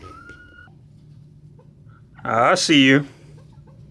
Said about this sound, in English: It sounded like a rooster with a head cold.